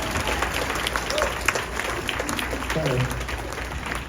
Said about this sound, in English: That's a cue for an applause.